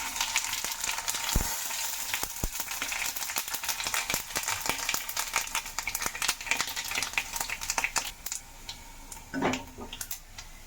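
Dried red chillies, panch phoron and fenugreek for a chhunk sizzle in a little hot oil, giving a dense, continuous hiss scattered with sharp crackling pops. The sound is close and unbroken by talk.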